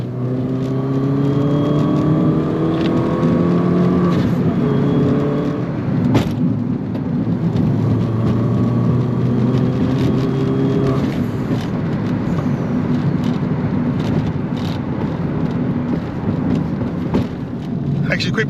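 A Mini Cooper S R56 moves over a rough, bumpy road, its engine and tyre rumble running steadily throughout, with the gear whine rising and falling and sharp jolts from the cabin.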